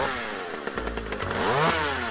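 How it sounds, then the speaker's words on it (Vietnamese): An enemy in the Minecraft Crazy Craft modded game wields a chainsaw, which gives a steady, buzzing motor drone that revs higher toward the end, loud and alone with no talk. "Ui, tên nào cầm mấy cưa vậy?"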